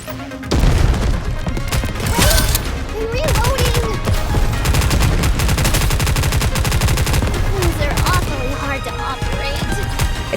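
Dense, continuous automatic gunfire and booming blasts from the mobile game Goddess of Victory: Nikke, loud and sustained throughout, with a voice speaking faintly under the shooting.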